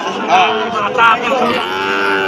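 A cow moos loudly and close at a cattle market, with a couple of drawn-out lowing calls over a busy background of other cattle and murmuring.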